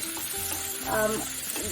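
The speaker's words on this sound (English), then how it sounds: "keep stirring and keep frying it until these peppers get a little bit soft" Brief burst of garlic and peppers sizzling as they fry, with a utensil scraping and stirring through the pan, close and steady.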